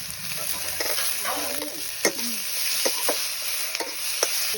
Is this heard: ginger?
yes